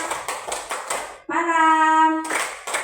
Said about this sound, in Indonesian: Tepuk tangan untuk kita dulu Bapak Ibu.